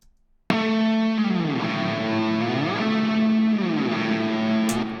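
A distorted electric guitar patch runs through effects, playing octave lines that slide up and down the fretboard after a sudden loud attack, sustained and thick with chorus-like shimmer, alone with no talk.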